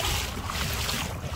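Strong wind buffets the microphone while out on a boat near Old Harry Rocks, a loud, continuous low roar with water movement underneath, no talking.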